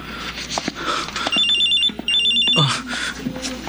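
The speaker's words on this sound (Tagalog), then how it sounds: "Nagre-ring ang cellphone ni Mama Sita" A mobile phone rings loudly and close by with a repeating electronic bell pattern in two bursts, then a short pause, then lower sounds as the ringing stops.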